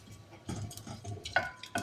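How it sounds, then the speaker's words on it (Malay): A spoon stirs garlic in a cooking pot for a Chinese-style pickled vegetable soup, making soft irregular scrapes and a few sharper clinks against the metal. "Kita kuis sekejap dulu."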